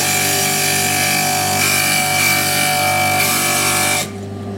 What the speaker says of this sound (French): vous les posez contre la meule, vous appuyez légèrement